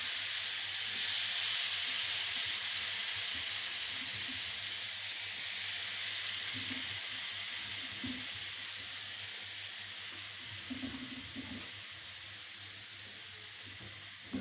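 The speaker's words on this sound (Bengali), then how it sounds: "লাউটাই ভাজি।" Bottle gourd frying in a pan gives a steady, close sizzle that fades slightly over time, with faint stirring scrapes now and then.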